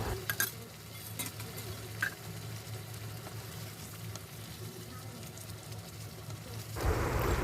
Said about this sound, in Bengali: আলুগুলো ভালো করে ওপর নিচ করে মিশিয়ে দিতে হবে মশলার সঙ্গে